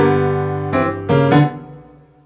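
A piano plays three closing chords, each struck firmly and left to ring, the last one sustained and fading slowly into silence.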